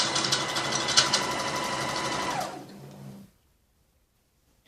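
A sewing machine runs steadily as it stitches a seam to the edge of a lehenga top, a dense whirring that slows and winds down near the three-second mark, then stops into silence.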